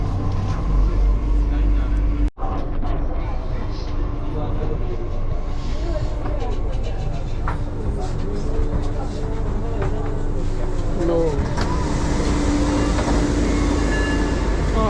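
A Delhi Metro train rumbles and hums steadily from inside the carriage, with rattling and a continuous low drone throughout.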